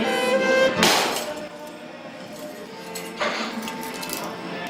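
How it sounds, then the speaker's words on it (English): A hammer breaking a metal object on a table: a loud sharp crash near the start, another strike around three seconds in, each followed by clinking, ringing debris. "I break mine with a hammer and I eat it"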